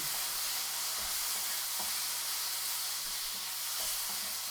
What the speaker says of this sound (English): throw in some salt, a whole bunch of that, and some pepper, and let's go ahead and mix it up